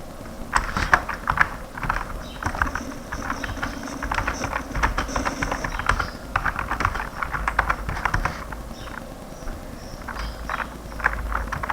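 Typing on a computer keyboard with a stiff, sticky key during an online shooter match, a steady run of quick clicking keystrokes with brief pauses, close to the microphone, and no talking.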